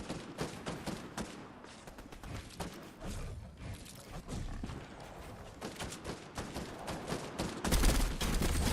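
Video game gunfire plays as rapid, fairly quiet bursts of shots and thuds that repeat irregularly through the game audio and grow louder near the end.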